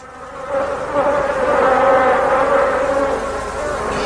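A cartoon bee buzzes in a steady, loud, continuous drone that swells slightly and holds throughout, with no voices.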